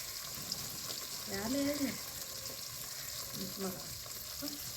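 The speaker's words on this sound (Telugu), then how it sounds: "ఇప్పుడు తీ వంకాయలను అయితే ఇందులోకి వేస్తున్నామండి" Ivy gourd pieces frying in a pan for a village-style curry, a soft continuous sizzle with light stirring, while a voice talks briefly over it.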